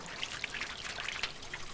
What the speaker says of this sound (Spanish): Hay 16 fuentes en la ciudad diseñadas hermosamente